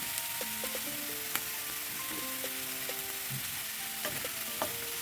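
Mushrooms frying in garlic butter with chili flakes and coriander leaves, a steady close sizzle running throughout, with a few light clicks of utensils against the pan.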